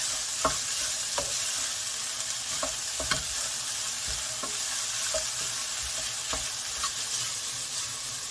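Sausage meat frying in a pan, a steady close sizzle with repeated clinks and scrapes of stirring scattered throughout.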